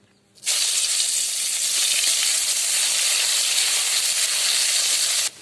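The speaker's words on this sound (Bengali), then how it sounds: "মাছগুলো তুলে ওই তেলে পেঁয়াজ দিয়ে দেবো এবারে" A sudden loud hiss erupts as onions hit hot mustard oil, then a dense, continuous sizzle holds steady before cutting off abruptly.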